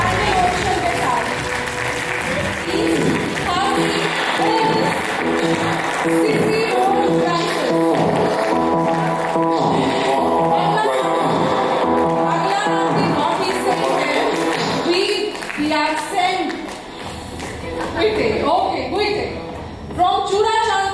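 A large crowd at an awards night in Lucknow claps through a standing ovation, loud and sustained, with music and an announcer's voice layered over it and a few cheers rising near the end.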